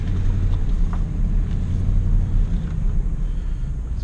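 A cheap used Ford F-150 pickup truck drives along with a loud, steady low rumble of engine and road noise heard from inside the cab, with no voices, its four-wheel drive light on.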